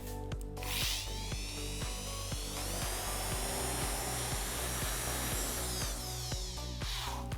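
A repaired electric hand drill whirs after being plugged in, its motor whine rising as it spins up, holding a steady high pitch and then winding back down, with short bursts at the start and end.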